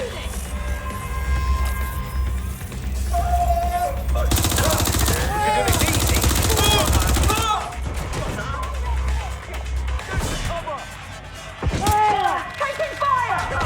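Rapid bursts of automatic gunfire from the video game Watch Dogs: Legion crackle loudly, with dense rattling volleys mid-clip, scattered single shots and impacts, and game voices shouting among the chaos.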